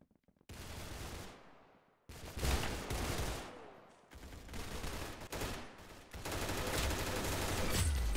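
Bursts of rapid gunfire in the Roblox shooter Arsenal come in dense, loud volleys lasting a second or two each. Brief gaps separate them, and no talking is heard.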